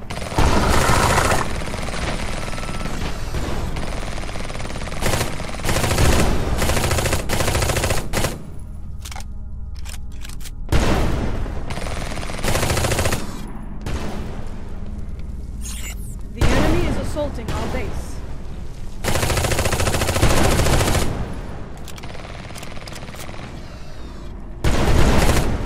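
Sustained automatic gunfire and explosions in the shooter video game Eximius: Seize the Frontline, dense and loud throughout with radio-style voices talking over the battle.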